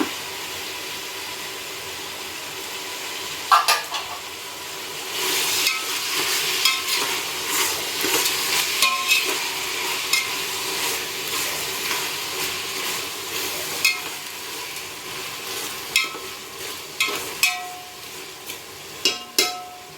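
Mint sautéing in a pan for prawn biryani, a bright steady sizzle with repeated scraping strokes and clicks of a spatula stirring, growing more rhythmic toward the end.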